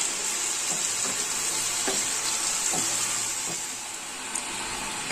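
Potatoes and peas with red chili powder sizzle in a pan at moderate volume, a steady frying hiss broken by occasional soft scrapes of a stirring spoon.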